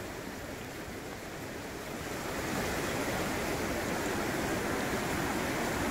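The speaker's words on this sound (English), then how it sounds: "And this is the river." Continuous rushing water of the Nzoia River, a broad steady roar that swells slightly louder partway through, with some wind buffeting.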